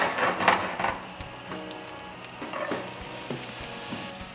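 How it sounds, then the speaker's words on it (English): Red onions sauté in two tablespoons of melted butter in a pan for pasta sauce. A brighter crackling sizzle comes first, then a softer steady frying hiss with a few light stirring knocks, close up and with no talking. "Gonna quickly saute the onions"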